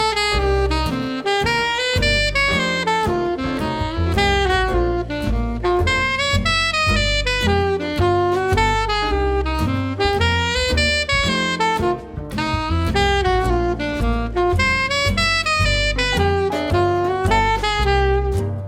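Saxophone playing a continuous run of eighth notes using double chromatic approaches from below then above, close and steady, heard alone without talking for the whole stretch.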